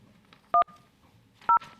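Two short beeping touch-tone dial pulses on a telephone line during a public meeting's call-in comment period, evenly spaced about a second apart, clear over a quiet background.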